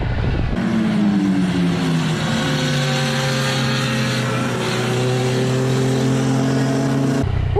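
Yamaha Niken three-wheeled motorcycle riding at speed, its engine note rising and shifting through gears in a steady, loud drone with wind rush, heard alone without talk.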